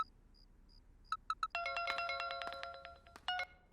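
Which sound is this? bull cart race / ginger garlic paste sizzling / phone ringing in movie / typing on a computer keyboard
phone ringing in movie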